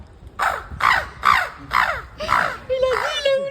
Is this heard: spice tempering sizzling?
no